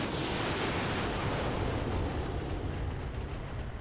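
Missile launchers on a BattleTech mech fire in a video game, a dense, roaring rush of launches and blasts that holds steady and loud throughout, with no voices.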